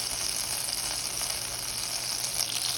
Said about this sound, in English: I'm going to let the butter melt before we add our sisig.